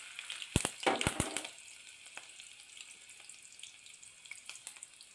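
Onions drop into hot oil with mustard seeds in a home kitchen pan, giving a few sharp crackling bursts early on before settling into a soft, steady sizzle with scattered pops.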